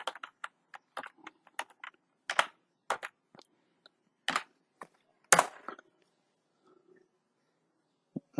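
Computer keyboard being typed on to enter a password, a sparse, irregular run of crisp, close key clicks with pauses between them.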